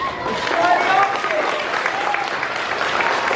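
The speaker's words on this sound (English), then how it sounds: "Huge round of applause for Denley" A crowd applauds and cheers at a Year 7 school assembly, a steady wash of clapping mixed with excited voices and shouting throughout.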